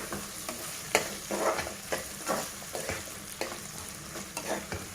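Menthi pappu ingredients fry in a pan as a spoon stirs them, with a soft steady sizzle broken by repeated scraping strokes at a quick, uneven rhythm, close and clear with no talk.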